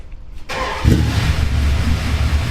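A turbocharged Ford F100 with a freshly fitted exhaust cranks briefly and fires up, then settles into a loud, steady, deep rumble close by.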